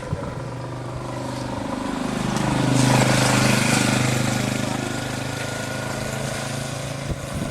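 A motorcycle engine on a road, its steady drone swelling as the bike draws near around the middle, then fading as it passes and moves off.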